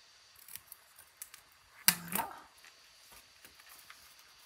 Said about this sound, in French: Ce qu'on fait, on la biseaute.